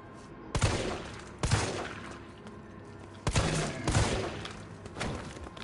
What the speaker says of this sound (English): See that shooting there, Mystique? Yeah, see that shooting.